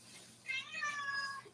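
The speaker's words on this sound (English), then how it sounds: "that's my kitty cat." A house cat meows once, drawn-out and rising then falling, fairly close in a quiet indoor room during an anime merchandise haul unboxing.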